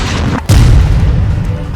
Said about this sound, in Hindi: वहीं पर इजराइल ने हवाई हमला कर डाला। जाहिर है ऐसे धमाके में कोई जिंदा नहीं बचा होगा।